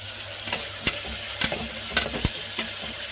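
Tomatoes and mint stirred in a hot pan give a steady close sizzle, broken by several sharp scrapes and clinks of the spoon against the pan at an uneven rhythm.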